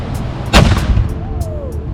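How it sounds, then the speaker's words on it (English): A black-powder artillery cannon fired as a salute during a historical demonstration at Fort Michilimackinac, one sharp loud boom with a brief echoing tail outdoors. "Artillery salute!"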